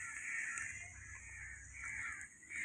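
Crows caw from a nest overhead, their calls fairly close and persistent amid steady outdoor background noise, with no talking.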